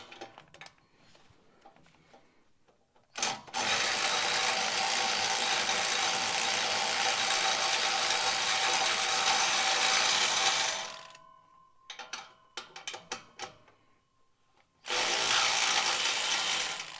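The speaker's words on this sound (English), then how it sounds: "Let me get the wrench on there and I'll move it." Ratcheting wrench tightening a fitting on a 1959 Ford F100 transmission to stop a fluid leak, a loud steady ratchet-like mechanical burr running several seconds, stopping, then resuming near the end, with no talk.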